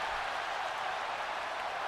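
Crowd in the WWE 2K17 wrestling game roars and applauds steadily, a broad, even wash of cheering noise at moderate volume with no distinct voices standing out.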